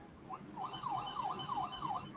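A wailing electronic siren, apparently a toy or RC vehicle's siren system, cycles up and down in a fast repeating yelp, fairly close and steady over low background noise.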